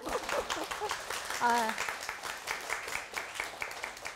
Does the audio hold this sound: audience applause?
yes